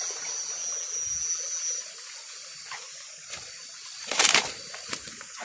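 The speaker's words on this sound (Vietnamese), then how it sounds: "Cái suối này nó chảy rất là dài mọi người nhá." Forest stream flowing as a soft, steady trickle of water, faint and continuous throughout, with a brief louder splash or rustle near the end.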